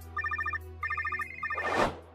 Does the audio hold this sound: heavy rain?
no